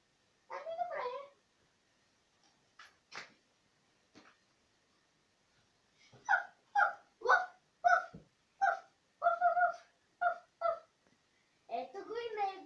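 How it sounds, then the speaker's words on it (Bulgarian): A small dog barks in a run of about eight sharp, close barks spaced roughly evenly, with a few softer yips before them, heard in a quiet room. "Ето го и него. Кучето. Много е сладичко."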